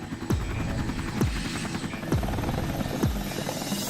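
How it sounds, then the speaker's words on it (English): Rotor noise throbs steadily with deep repeating swooshes, like a helicopter flying nearby, constant and fairly loud. "Helicopters can punch a hole in a hurricane"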